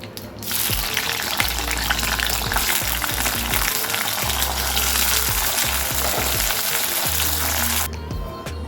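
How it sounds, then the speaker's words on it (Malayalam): Loud, steady sizzling of cauliflower frying in hot oil, a dense crackling hiss that runs almost the whole time, with occasional soft stirring knocks underneath. "രണ്ട് പ്രാവശ്യം കോളിഫ്ലവർ വറുത്തെടുത്ത് കഴിഞ്ഞു"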